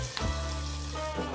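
Fish frying in oil for Assamese maas bhaja, reused oil, making a steady close hiss of sizzling that holds evenly through the short moment with no voices.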